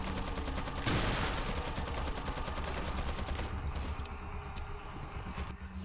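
Shotgun blasts in Resident Evil 4, one sharp broadband shot followed by dense, loud gunfire and clatter amid steady game noise.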